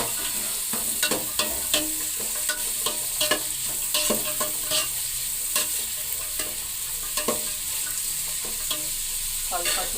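Carrots and beans are stirred in a hot frying pan for a pulao, a steady oily sizzle with regular scraping clacks of the spoon against the pan, close and continuous.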